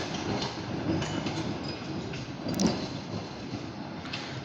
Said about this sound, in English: That's a kind of short for the freight train right there, heading back to Titusville.